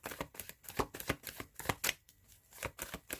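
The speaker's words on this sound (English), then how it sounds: "I'm feeling like I need to shuffle." Tarot cards being shuffled by hand in a quiet room, a close, steady run of crisp riffling and tapping bursts with short pauses between, no voices.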